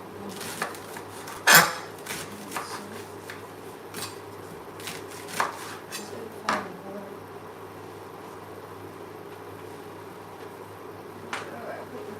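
Knife cutting okra for soup on a board, a few sharp scattered clicks and taps with dish and utensil clatter in a quiet kitchen, no talk.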